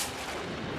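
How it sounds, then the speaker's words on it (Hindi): A single loud gunshot-like blast booms briefly and fades, with no voices. "ये तो गोली की आवाज है रोहित"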